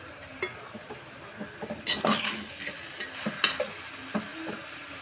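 Tomatoes sprinkled with salt frying in a pan for a curry, a low sizzle broken by stirring scrapes and light metallic clinks of a spoon on the pan.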